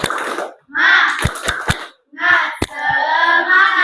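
A group of children performs a rhythmic clap-and-chant routine in a classroom, with sharp claps punctuating loud, lively group vocals in short bursts separated by brief pauses.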